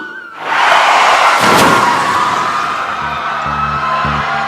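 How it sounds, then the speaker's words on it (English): A loud, sustained scream rises sharply and carries on for several seconds over a low rumble of traffic. "that scream I heard, that was him"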